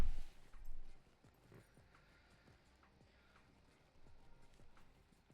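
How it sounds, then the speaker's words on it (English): Horse hooves clip-clopping in The Lord of the Rings Online, a steady rhythmic trot of moderate loudness after a louder opening thump, with no voices. "I think we are now able to use our horse as well, which is nice."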